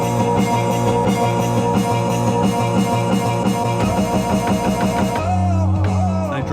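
Dense electronic music builds with rapid repeated drum hits and layered synth tones, growing busier until a sustained low bass chord takes over at the end.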